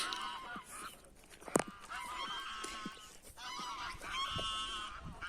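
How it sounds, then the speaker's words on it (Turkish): Several farm geese honk loudly and repeatedly, their harsh calls overlapping outdoors in a stubble field, with one sharp burst standing out partway through. "Bağırıyorlar. Seslerini duyuruyorlar arkadaşlar. Size selam veriyor kazlar."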